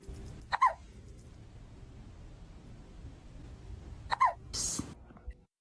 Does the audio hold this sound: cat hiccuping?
yes